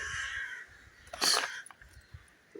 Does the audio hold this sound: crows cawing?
yes